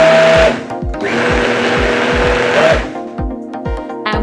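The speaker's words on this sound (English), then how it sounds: "and blend again on high" A JTC OmniBlend blender running on high with flour dough inside, a loud close motor whir with a repeated rhythmic thumping as the contents churn, easing and dipping near the end.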